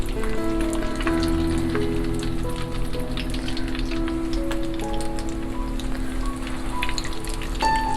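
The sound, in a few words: falafel balls deep frying in oil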